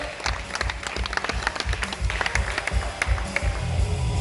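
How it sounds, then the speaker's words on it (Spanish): Audience applause for cosplayers at a manga and comic festival in Las Palmas: many hands clapping in quick, dense, uneven bursts, lively and fairly close, swelling slightly toward the end. "Fuerte aplauso para ellos"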